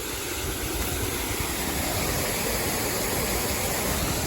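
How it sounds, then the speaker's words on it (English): Loud, steady broadband rush of water pouring into a filling canal lock, continuous and close with no pauses and no speech. "Yeah, the water is filling up a bit here."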